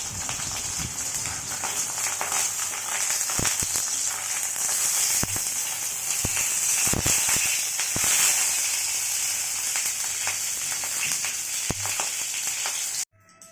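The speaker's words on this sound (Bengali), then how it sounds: "পাপার জন্য পেটির পিসটা ভেজে নিচ্ছি" A catla fish belly piece frying in oil, a loud, dense sizzle crackling steadily up close with sharp pops and occasional utensil knocks, running continuously before cutting off abruptly.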